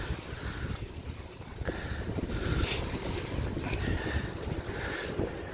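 Strong wind buffets the microphone steadily, a loud rumbling roar with gusts swelling and easing throughout, no voices.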